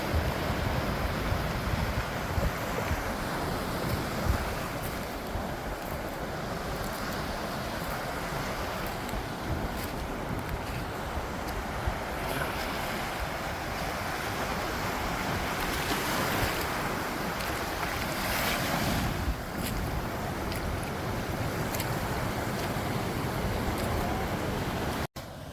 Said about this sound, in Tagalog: Sobrang lakas ng alon.